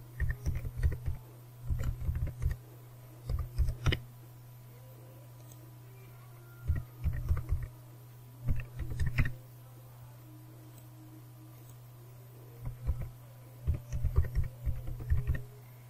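Bursts of computer keyboard typing as an email address is entered, quick clustered key clicks separated by pauses, close and fairly quiet over a steady low hum, with no talking.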